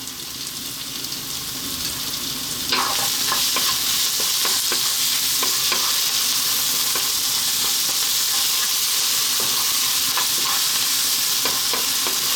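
Garlic ginger paste and salt frying in a pan for spinach saag curry, a steady loud sizzle throughout with intermittent scraping stirs and clicks, no voices.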